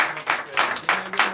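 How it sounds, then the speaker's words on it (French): A church congregation claps in a quick, rhythmic beat of repeated bursts, moderately loud over a brief span, with voices mixed in. "Donnez de vives acclamations"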